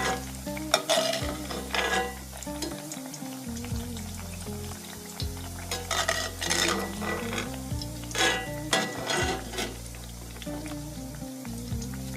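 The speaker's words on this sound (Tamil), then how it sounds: "ஓகேங்களா, கத்திரிக்காய் ஃப்ரை ஆகட்டும்." Eggplant frying in hot oil in a pan, a steady bubbling sizzle with repeated scraping and stirring clatters of a utensil against the pan, loud and close, with no talking.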